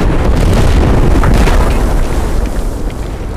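Gunfire in the mobile battle royale Apex Legends Mobile: a loud, dense barrage of booming shots that rumbles continuously, then tapers slightly toward the end, with no talking over it.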